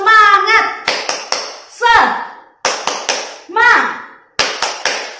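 Children clapping a rhythmic pattern in short bursts for a Sunday school spirit cheer, alternating with a chanted voice between the claps.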